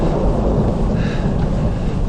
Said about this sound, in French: Là le bruit que vous entendez peut-être en arrière-plan, c'est le tonnerre.